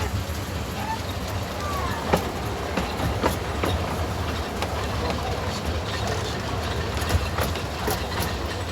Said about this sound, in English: There's going to be another train coming through because 2 tracks.